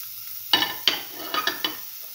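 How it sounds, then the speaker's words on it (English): Tomato pieces and red chilli stir-fry in a hot pan: a soft sizzle with about five quick spatula scrapes close by. "Now put in the tomato pieces and the red chilli"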